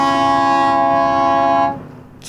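A ship's whistle sounds at sea during an ash-scattering ceremony with many boats and yachts gathered: one loud, steady, sustained blast lasting under two seconds, then cutting off to quiet ambience.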